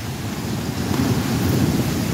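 Storm surge waves crash at Nato Port in Sagñay, Camarines Sur, in the Bicol region, a continuous heavy roar of surf mixed with gusting wind buffeting the microphone, with no voices.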